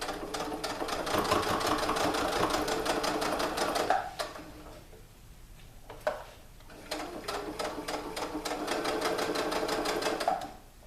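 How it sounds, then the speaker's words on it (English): A sewing machine stitches across leggings fabric in quick rapid bursts, pausing briefly twice before running steadily again, close by and with no talking. "I'm going to keep going straight all the way across"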